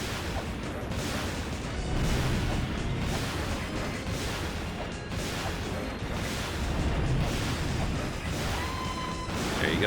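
Continuous dense explosion noises and crashing bursts from a laser beam in the video game La-Mulana, loud and sustained with rumbling booms throughout.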